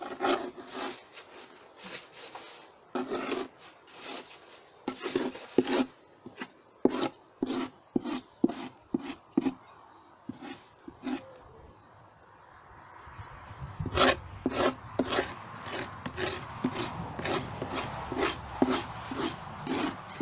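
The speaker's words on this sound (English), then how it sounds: "Scrape the bottom board." A tool scrapes the wooden bottom board of a beehive in a long run of short, rasping strokes, some quick and close together, others spaced apart, steady and fairly close.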